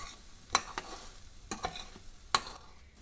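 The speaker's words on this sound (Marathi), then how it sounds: "कढईतील भाजी एका बाजूला करूया." A spoon scrapes dry-cooked brinjal vegetable across a kadhai in three or four distinct, sharp strokes, with a faint sizzle underneath between them.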